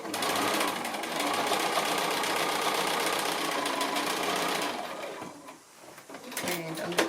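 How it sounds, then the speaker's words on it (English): A sewing machine stitches quilt pieces for a house sampler block, a loud steady whir for about five seconds, then it stops and a few clunks of handling follow. "stitch those on."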